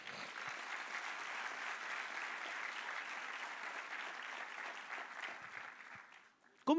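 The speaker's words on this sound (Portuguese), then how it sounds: "Aplauda o Senhor Jesus por isso." A church congregation claps in a sustained, even roar for several seconds, then the applause fades out and a voice begins to speak at the very end.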